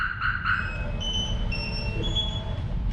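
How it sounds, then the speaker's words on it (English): A car alarm's warning tones chirp and warble in steady electronic bursts after the parked vehicle is tapped, loud and alone over a low rumbling background. "The alarm's gonna go off, but it's telling me that someone's around my vehicle"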